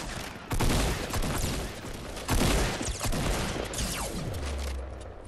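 Rapid bursts of automatic gunfire in a duos battle royale shooter game, loud and close with sharp volleys and heavier impacts recurring across the stretch, no talking over it.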